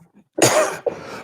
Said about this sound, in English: I will be coughing throughout the show as per usual.